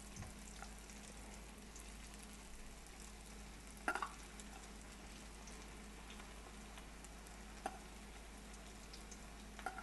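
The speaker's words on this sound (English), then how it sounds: "Just want to put like a couple, maybe four or five in, depending on how many lumpia you can put into the frying pan." Lumpia fry in oil in a frying pan with a soft, steady sizzle throughout, broken by a few small pops and crackles.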